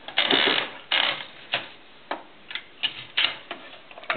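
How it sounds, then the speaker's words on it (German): An Erika typewriter mechanism clacks in a series of sharp, close key strikes and mechanical rattles, spaced irregularly about half a second apart, with no voices. "Das ist eine Erika Schreibmaschine."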